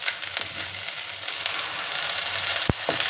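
Onion and coconut paste frying in a pan for a goat head curry, a close continuous sizzle with a few stirring knocks and a sharp clatter near the end.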